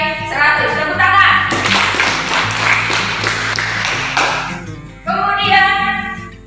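A classroom of students gives a burst of applause for a classmate, a dense round of clapping lasting a few seconds, framed by a teacher's voice before and after.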